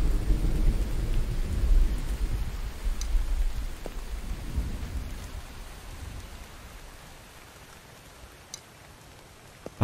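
Steady rain hisses while low rolling thunder rumbles and slowly fades in the survival video game The Infected, with a few faint clicks near the end and no talking.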